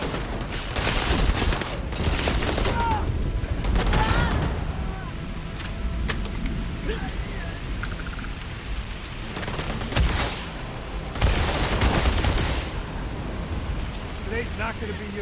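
Gunfire rattles during a firefight in the video game Starfield, with loud bursts of rapid shots coming in waves and brief lulls, while characters shout over the shooting.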